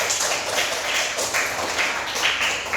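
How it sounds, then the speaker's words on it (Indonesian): A class of sixth-grade primary school students applauds a classmate named Nori, a steady patter of many small hands clapping close by, continuous and even throughout. "tepuk tangan untuk Nori"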